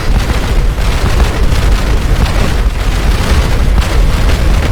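Masses of TNT blocks exploding in Minecraft, a dense continuous roar of overlapping loud blasts with no pauses.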